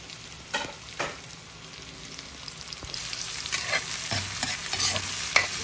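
Onions and ginger stirred in a frying pan for ginataang puso ng saging, a steady low sizzle with scraping utensil strokes coming at irregular intervals, close and moderately quiet, with no talking.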